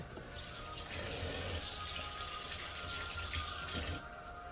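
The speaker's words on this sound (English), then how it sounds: "I'm going to wash my hands." Tap water runs steadily into a sink for hand washing, a continuous close hiss and splash lasting several seconds with no talking.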